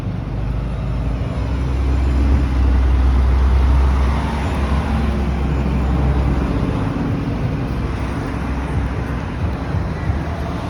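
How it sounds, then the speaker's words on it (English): Several trucks pass along a road close by, a loud broad roar that swells and fades over about ten seconds with steady traffic rumble beneath and no talking. "Let me let these trucks pass by."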